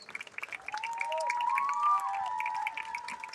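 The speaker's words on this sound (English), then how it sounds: "another round of applause for all of our 2024 Hall of Fame class inductees" Crowd at a high school football game clapping and cheering for Hall of Fame inductees, a scattered patter of hands under rising whistles and shouts, fairly distant.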